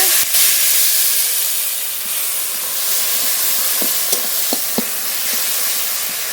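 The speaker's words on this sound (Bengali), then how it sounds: "মশলা খুব ভালো করে কষিয়ে নিয়েছি তেলও ছেড়ে দিয়েছে মশলা থেকে" Spice paste (masala) for a rohu fish curry with potatoes fries in oil, giving a continuous soft sizzling hiss with a few faint clinks of stirring near the end.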